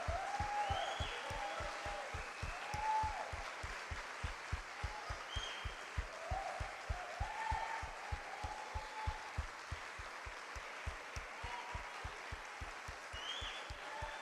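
Congregation in an Apostolic church applauding in steady rhythmic unison, a continuous run of sharp, evenly spaced claps with faint voices and shouts rising now and then above the clapping.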